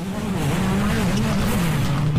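Race car in a racing video game replay, a steady whining engine drone holding a near-constant pitch with a rough skidding texture over it, loud and close throughout.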